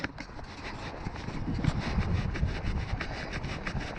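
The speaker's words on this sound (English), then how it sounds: "we're nearly out of that wind" Wind buffets the microphone during an outdoor 5-mile run in the Great Yarmouth Sprint Series, a steady low rumble with gusty swells throughout and faint footfall rhythm beneath.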